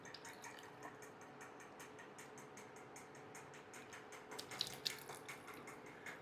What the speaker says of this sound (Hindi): तो 750 ml पानी अभी हम डाले हैं।